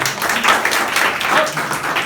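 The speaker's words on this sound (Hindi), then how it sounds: "ताली तो बजा दो ना इसके लिए" A school audience claps continuously in a dense wash of applause that holds steady throughout the short stretch.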